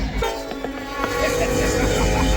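A long freight train rolls past along the Humboldt River in the Nevada desert, its steady rumble and wheel clatter close and continuous, with a faint horn-like tone riding over the grinding noise.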